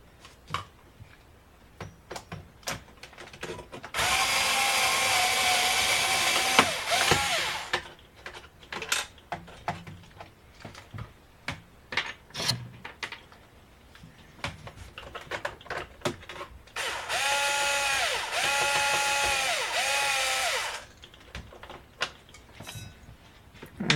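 Screws being backed out of the side of an HP TouchSmart all-in-one desktop computer, two sustained bursts of whirring driver noise a few seconds each, separated by quieter clicks and handling taps.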